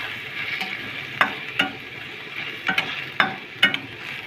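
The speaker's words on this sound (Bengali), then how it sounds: "তার উপর দিয়ে দেবো সয়া সস, আর দিয়ে দেবো টমেটো সস, দিয়ে একসঙ্গে মিক্স করব" Baby corn with soy sauce and tomato sauce is stirred in a pan. A faint sizzle runs underneath while a spoon scrapes and knocks against the pan in several distinct strokes, close and without talk.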